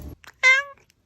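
A single short cat meow, rising and falling, loud and close, with brief faint noises before and after; an animal agitated moments before an earthquake strikes.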